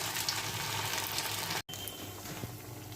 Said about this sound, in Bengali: নিয়ে আমার তেল গরম হয়ে গিয়েছে, দেখতেই পাচ্ছ। দিয়ে গরম তেলে ছেড়ে দিলাম।